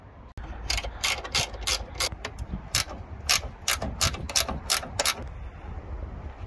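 A ratchet wrench loosens fasteners to remove a headlight from a Jaguar XF Sportbrake, a brisk run of close, loud clicking strokes in quick bursts with short pauses, no talking.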